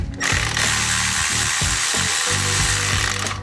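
A ratchet or power driver works steadily and close up on the intake clamps of a Camaro ZL1 during an intake install, making a continuous dense mechanical whir with slight shifts in pitch across the few seconds.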